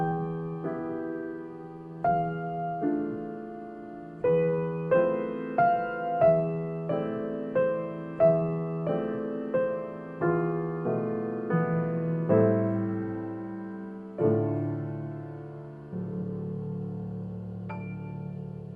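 A piano plays a slow, melodic passage of sustained notes and chords, picked up by an inexpensive Samsung Meteorite USB microphone aimed toward the instrument in a home teaching setup, clear and moderately close with no talking.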